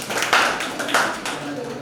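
Students in a classroom break into short rounds of applause, with a few sharp bursts of clapping over a soft murmur of voices.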